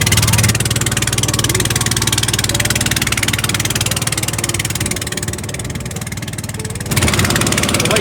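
A boat engine runs steadily during a safari boat ride at Attock, a loud, close, even drone with a rapid mechanical pulse that dips slightly before rising again near the end.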